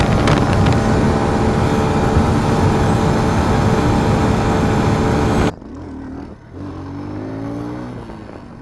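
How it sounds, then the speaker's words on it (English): A 2017 SSR motorcycle, a Honda Grom clone, running downhill with its engine revving hard near the rev limiter, loud and steady with heavy wind rush, then cutting abruptly to a much quieter engine note that rises again. "I'm hitting where the Grom would already be hitting rev limiter"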